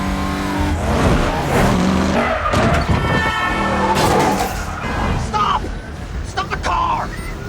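Car chase from the film Upgrade, with engines roaring and tires skidding and squealing in bursts, loud and close, layered with dramatic film sound and voices.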